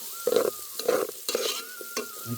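Potatoes and carrots sauté in coconut oil over an outdoor fire in a forest, giving a close run of short sizzling bursts as the pieces are stirred in the pan, with no talking.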